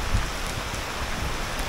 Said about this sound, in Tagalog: Parang bagyo yung ulan.